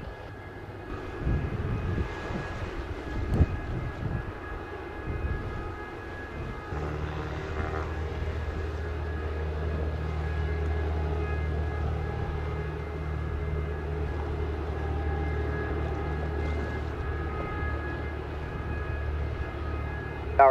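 An airliner at Montego Bay airport in Jamaica rumbles past with a sustained, loud engine roar and a steady tonal whine that hold evenly throughout, with no talk.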